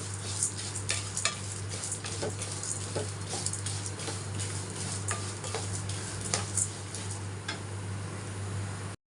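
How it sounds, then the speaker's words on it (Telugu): Cumin seeds and spices fry in a pan for garlic chili powder, giving a steady close sizzle with repeated sharp scraping and ticking stir strokes, over a low constant hum, with no voices. "మొత్తం మిక్స్ చేసుకుని మంచిగా ఫ్రై చేసుకున్నాం"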